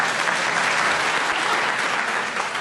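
Studio audience at a radio panel game applauds in a dense, steady burst of clapping, loud and close, with no talk over it.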